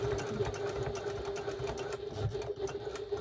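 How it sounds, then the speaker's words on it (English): A sewing machine stitches a 1941 gas mask bag steadily, its motor humming with a rapid, even rattle of the needle throughout, close by and with no voices. "I'm just lining myself up to argue with the sewing machine."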